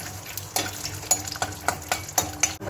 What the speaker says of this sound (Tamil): இது கூட கடலையும் அதே மாதிரி பொரிச்சுட்டு எடுத்துடலாம்